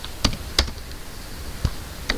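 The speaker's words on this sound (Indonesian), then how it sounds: "tekan tombol tab di keyboard untuk melengkapinya." A computer keyboard tapped while coding, with the Tab key pressed: four sharp, isolated clicks spaced irregularly, fairly close but soft, with no talking.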